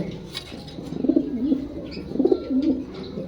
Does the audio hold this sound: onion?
no